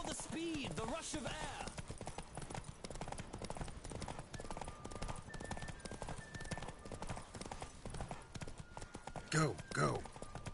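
In The Witcher 3, a racing horse gallops with quick, driving hoof beats that run loud and unbroken, while voices call out over the rhythm and a whinny or shout flares near the close.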